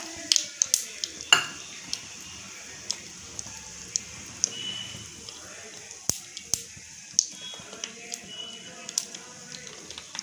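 Asafoetida tempering in hot oil for radish pickle, with sharp scattered crackles and pops at irregular intervals over a faint low sizzle, close and fairly quiet, occasional utensil clinks.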